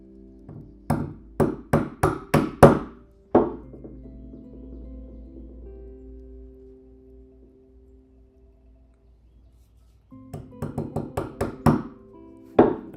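A wide wood chisel cuts into a live edge walnut slab, giving quick bursts of sharp close taps in clusters of five or six, separated by a long quieter stretch with a faint low hum.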